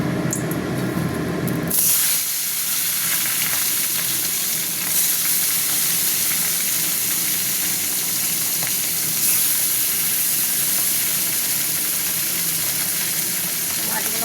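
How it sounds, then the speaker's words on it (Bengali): Steady loud sizzling of three hilsa fish frying in hot oil, continuous and close, after a brief burst of noise at the start. "এটা ভাজা ভাজা হতে থাক"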